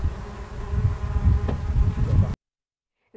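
Bees buzz steadily in a cherry orchard, a dense close-up hum that runs loud for about two seconds and then cuts off abruptly into silence.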